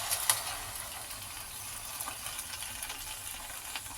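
Fried gobi sizzles softly in a pan as Manchurian sauce and chilli powder are stirred in, a steady faint hiss with occasional light scraping clicks and no voices.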